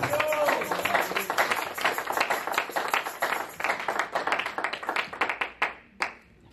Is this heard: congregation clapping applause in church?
yes